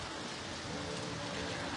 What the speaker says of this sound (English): it'd be nice if it wasn't hailing or raining.